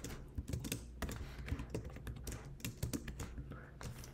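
Rapid typing on a computer keyboard entering LaTeX math formulas, dense, close clicks and clacks in quick bursts with uneven rhythm, with faint murmuring beneath.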